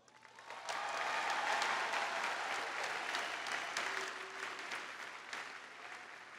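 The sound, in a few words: crowd applause at a commencement ceremony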